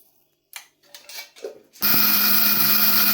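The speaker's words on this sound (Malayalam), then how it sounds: "രണ്ട് മിനിറ്റ് വരെ നമുക്ക് പൊടിക്കണം." After a few brief clinks and handling sounds, a mixer grinder kicks on abruptly and runs at a loud, steady whine while grinding horsegram into powder.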